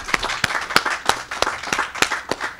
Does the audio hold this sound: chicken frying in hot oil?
no